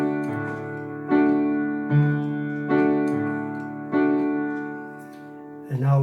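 Chords on an electronic keyboard piano with the sustain pedal held down, struck about every second and a half so each one rings on and blurs into the next.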